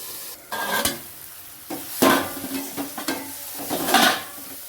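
Boiled bitter gourd sautéed in a pan, with irregular bursts of stirring and scraping over a light sizzle, each stroke loud and close, separated by brief quieter pauses.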